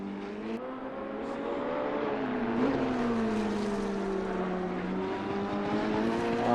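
A race car engine in the Assetto Corsa Competizione racing game, a sustained, steady engine drone with shifting pitch, running alone without talk for several seconds.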